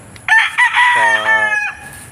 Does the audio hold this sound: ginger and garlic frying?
no